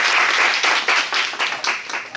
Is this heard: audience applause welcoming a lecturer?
yes